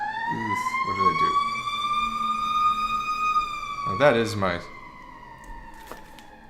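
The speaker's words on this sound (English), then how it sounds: "Yeah, that's a real siren." A real emergency vehicle siren wails outside with a long, steady, slowly rising tone that holds for several seconds, heard while someone talks indoors over it in short phrases.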